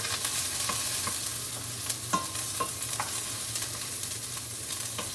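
Vegetables for spaghetti sauce sizzle in an oiled pan with a constant bright hiss. Scattered spoon scrapes and taps from stirring are heard close by, and no one talks.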